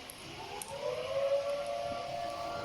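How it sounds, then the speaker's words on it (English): A civil defense siren sounding a nuclear alarm, a steady wailing tone that rises slightly and holds, faint and distant against a hiss of background noise. "That's a nuclear alarm."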